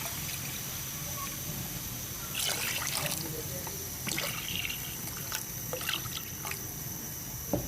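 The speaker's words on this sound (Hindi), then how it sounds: "और 1 लीटर इसके अंदर और पानी डालते हैं हम।" Water is poured into a cooking pot holding a gram-flour and yogurt kadhi mixture, a quiet, steady trickle and splash lasting several seconds, with no speech.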